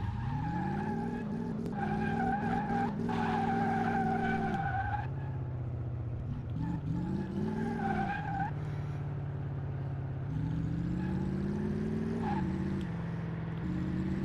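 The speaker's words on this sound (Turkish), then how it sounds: "Şimdi içine girelim ve gaza basalım." Ford GT40 engine in Car Mechanic Simulator revving hard with rising and falling pitch, interrupted by repeated tire skids and squeals, loud and continuous throughout.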